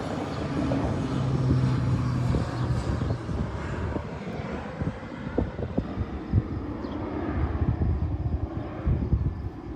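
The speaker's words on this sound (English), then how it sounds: "The crop duster airplanes are flying over today." A propeller-driven crop duster airplane flies over farmland, its engine drone fairly near and steady before slowly fading, with wind noise and occasional bumps against the microphone.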